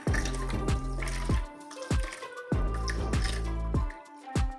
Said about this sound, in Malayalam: നന്നായിട്ട് തേങ്ങ പിഴിഞ്ഞിട്ട് പാൽ മൊത്തം എടുക്കണം.